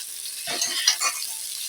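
Ginger, onion and garlic fry in a pan with a constant, bright sizzle, and a few soft scraping stirs sound in the middle of it, close by with no voices.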